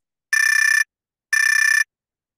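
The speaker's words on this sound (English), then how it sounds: "When the time has expired, a bell will ring, which sounds like this." A Zoom timer bell for a 2024 California Senate Democratic primary forum rings twice, each a bright half-second trill with an even pause between, clean and loud with no talk.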